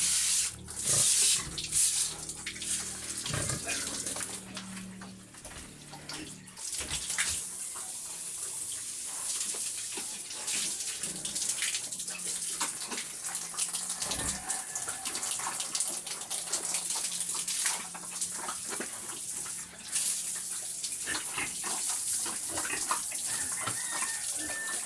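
A pet pig is washed outdoors with running water, a continuous close splashing and hissing stream with occasional knocks and thumps throughout.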